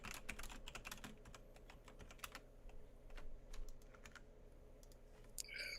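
Typing on a computer keyboard while messaging: quiet, uneven bursts of quick key clicks against faint room noise.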